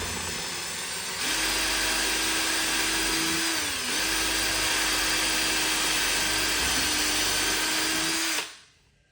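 A power drill drives black screws into a tail piece with a loud, steady whine lasting about seven seconds, its pitch dipping briefly as the load changes before it cuts off. No one speaks.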